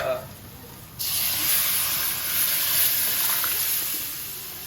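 Lentils go into hot, fully cooked spice paste in a pan and hit it with a sudden loud sizzle that keeps hissing steadily to the end.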